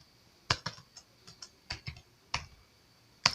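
Irregular keystrokes clatter on a computer keyboard, a dozen or so sharp, close clicks in uneven bursts with short pauses, over a faint steady room hum and no talking.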